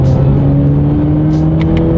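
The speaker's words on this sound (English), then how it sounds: "let's do that acceleration and see how quickly we can get this 2019 Camaro up to speed" Turbocharged 2019 Chevrolet Camaro accelerating hard, a loud, close engine drone with a steady rising tone that holds throughout, with no one speaking.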